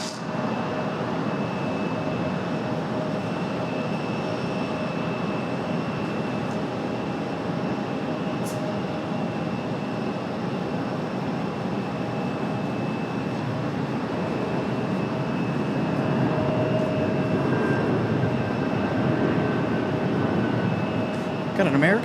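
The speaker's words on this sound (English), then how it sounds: "Got an American 737 coming in right now." An American Airlines Boeing 737-8 lands at Raleigh-Durham airport: a steady distant jet roar with faint whining tones that swells slightly louder toward the end.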